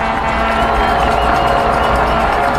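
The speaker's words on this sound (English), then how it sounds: "Crowd getting into it." A high school football crowd roars steadily in the stands, a loud, continuous wash of cheering and noise that holds without a break.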